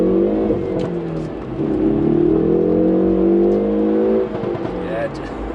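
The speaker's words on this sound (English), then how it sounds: "just try and do a pull away and see whether it's going to get some axle tramping." A Hyundai i30N Fastback pulls away on a wet road, its engine rising in a loud, close, continuous revving drone with a brief dip midway, as the axle tramps under acceleration.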